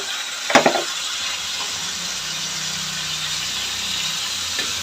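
Washed rice for jeera rice frying in a pan, giving a steady, soft sizzling hiss throughout, with a few brief clatters near the start.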